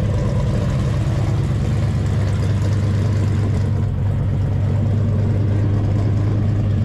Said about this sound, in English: Exhaust sounds great.